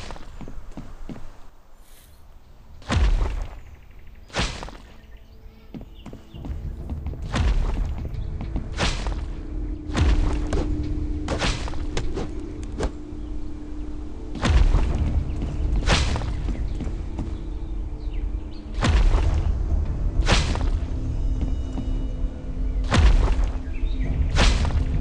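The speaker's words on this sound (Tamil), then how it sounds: "வெளியே யாரோ அந்த டோரை உடைக்கிற மாதிரி சத்தம் கேட்குது." Heavy repeated thuds and bangs from someone breaking a door outside in a video game, arriving as about a dozen spaced, booming impacts over a low ambient hum.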